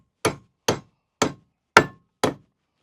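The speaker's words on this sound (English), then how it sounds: "You can already tell hammering it in is significantly harder because it hasn't lost its integrity." Hammer blows driving a nail into composite framing lumber: five sharp, solid strikes spaced about half a second apart, close and loud with silence between them.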